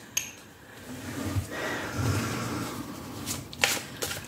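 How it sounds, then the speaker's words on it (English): Tarot cards shuffled by hand, a close, soft riffling and sliding texture that swells and fades over several seconds, ending with a few sharper card taps. "Let me shuffle your cards first."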